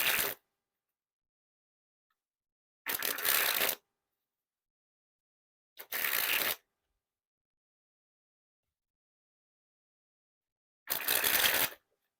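Four separate bursts of new Grimmlore Tartan playing cards by Art of Play springing from hand to hand, each a dense riffling flutter lasting under a second, close and clear with silence between and no talk.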